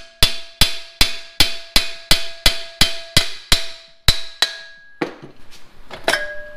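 A hammer strikes a cut driveshaft weld in a steady series of about a dozen loud, ringing metallic blows close by, each one decaying into a bell-like tone, then a few irregular hits at the end.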